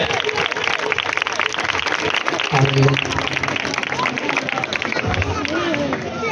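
Audience applause at a Christian gathering in Lahore where a pastor shares scripture, steady dense clapping and crowd noise mixed with voices and cheering for the whole stretch.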